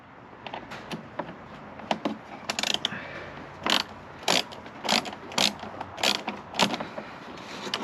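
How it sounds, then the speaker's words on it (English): A ratchet turns a 1/4-inch driver swivel on an extension while installing a light kit on a Traxxas FunCo RC vehicle, making a series of short, sharp clicking bursts at an uneven rhythm, close and fairly loud. "I've got a 1/4-inch driver swivel on an extension and a ratchet"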